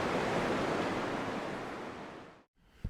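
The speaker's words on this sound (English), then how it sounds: "You can probably hear the seagulls and the waves." Surf on a Pembrokeshire beach near White Sands produces a loud, steady wash of breaking waves, with a gusty rush that fades out abruptly near the end; no seagull calls or voices stand out.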